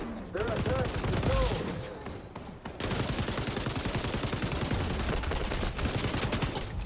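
Rapid automatic gunfire from an LMG in the XDefiant shooter game rattles almost continuously, loud and dense, with brief gaps and a player's voice mixed in.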